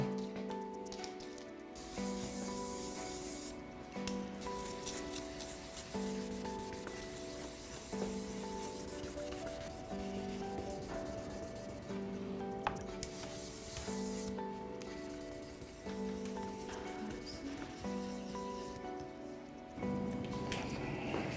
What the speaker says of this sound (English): And then use charcoals to sand the surface down.